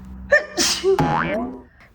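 A single sharp sneeze bursts out mid-makeup routine, close and fairly loud, with a short breathy intake leading into it and a fading tail afterward.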